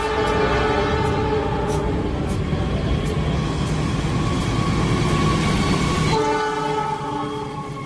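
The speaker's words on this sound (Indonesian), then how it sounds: "Kereta api Parahyangan jurusan Bandung." The Parahyangan passenger train bound for Bandung passes close by in Indonesia, a loud continuous rumble of wheels and carriages with a horn sounding throughout, cutting off abruptly as the last cars go by.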